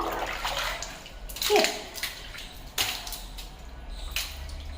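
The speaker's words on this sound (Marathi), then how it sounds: "बरी ही पॅसेजची आधी लादी क्लीन करून घेते" Water splashes and sloshes across a tiled passage floor as it is washed, with scattered wet slaps and splatters over a steady running-water hiss at close range.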